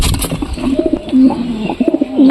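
Pigeons coo close by in a loft in soft, throaty, repeated bursts, with a faint bird chirp in the background.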